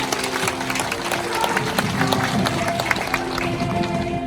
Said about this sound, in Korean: 큰 박수 한번 칩시다